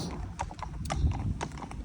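Willow, a 15-year-old local horse, clip-clops with steady, close hoofbeats, the rhythmic footfalls clear against quiet outdoor background.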